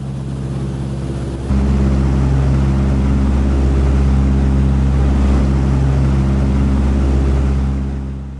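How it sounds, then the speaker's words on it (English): Crop-duster airplane's right engine roaring just outside an open cabin window in flight, a loud, steady, deep drone with strong low harmonics that surges louder after a second and holds throughout. "the roar of the right engine, just a few feet outside my open window, is deafening"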